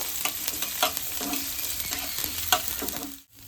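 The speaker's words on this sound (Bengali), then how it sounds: "এখানে হালকা করে একটু পেঁয়াজটাকে নাড়াচাড়া করে নিলাম" A small chopped onion sizzles in white oil as it is stirred around the pan, a close, steady frying hiss with scraping strokes that briefly cuts out near the end.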